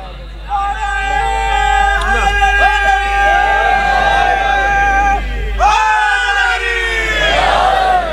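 A large gathering at an imambargah during a 25 Ramzan majlis roars a slogan back in unison, several swelling collective shouts rising and falling close by, with one voice leading between the responses.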